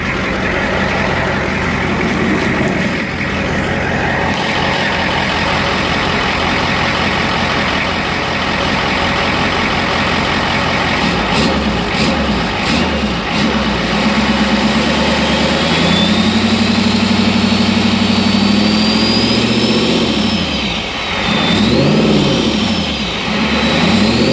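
A turbocharged 1986 Ford F-250 pickup engine idles steadily for a long stretch, then revs up and rises in pitch before settling back, close and loud.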